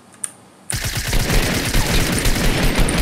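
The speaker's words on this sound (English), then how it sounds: "Wow, nice shotgun." Rapid, loud gunfire bursts in the video game Fortnite, erupting suddenly after a near-silent moment and continuing as a dense, repeated volley of shotgun and automatic fire.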